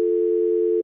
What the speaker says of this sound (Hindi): तो मैं क्लिक करूंगा तो आपको डायल टोन सुनाई देगी